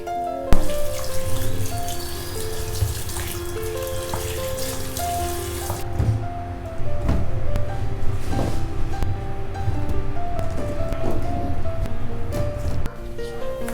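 Tap water runs steadily while meat and vegetables are washed in a home kitchen, a rushing stream that sits mostly beneath prominent background music, strongest in the first few seconds.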